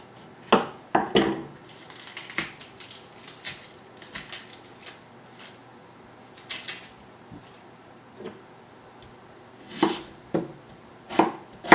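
A knife slices leeks lengthwise on a cutting board, producing irregular sharp taps and thuds against the board, some in quick clusters and others spaced apart, close and clear with no talking.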